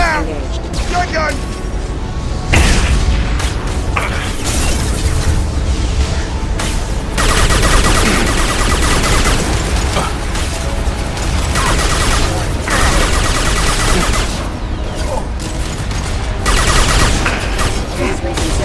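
Loud, dense gunfire from the video game Mass Effect 2, including shotgun blasts, in heavy continuous bursts and booms with voices mixed in amid a sandstorm battle.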